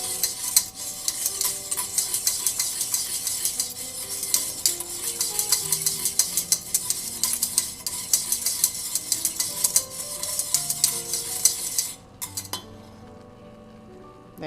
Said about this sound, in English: Just want to make sure that all that Jell-O gets really good and hot and comes to a nice boil